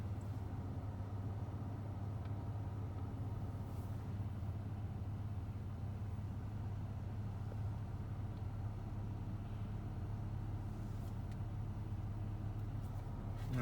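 Waste Management garbage truck in Oak Park, Illinois, a distant, steady low engine rumble that stays faint and continuous.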